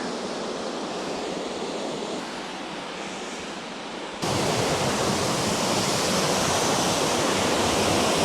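A waterfall rushes in a continuous broadband roar that jumps louder partway through as if stepping closer, steady and unbroken with no voices.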